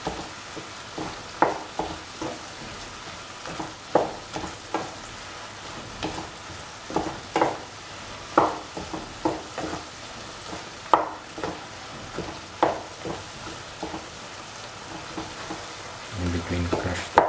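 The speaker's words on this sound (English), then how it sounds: "Keep on sauteing and mixing all the ingredients together." Mushrooms and ash gourd sauté for a mushroom stew, a constant close sizzle broken by repeated scraping stirs from a utensil every second or so, with a low rumble near the end.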